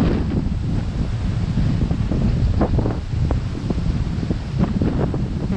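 Strong wind gusts across the microphone at a shore fishing spot, a constant loud rumbling buffet with surf-like swells and no talking.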